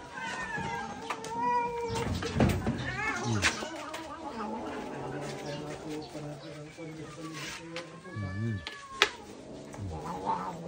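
A crowd of cats and kittens meows and caterwauls in overlapping, drawn-out cries throughout. Some calls are close and loud, others farther off, with people talking in between.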